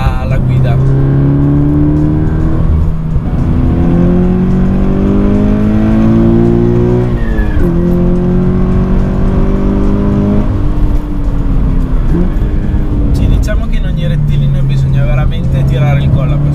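Toyota GT86 sports car engine revving hard while driving, rising and falling through the gears in repeated climbing pulls, loud and close inside the cabin with someone talking over it.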